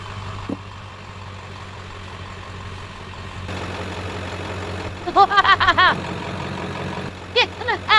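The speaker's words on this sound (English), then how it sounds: "Uh-oh, the monster truck is here." A monster truck engine idles in a video game, a steady low drone running throughout, while a voice breaks in over it with short bursts of speech near the end.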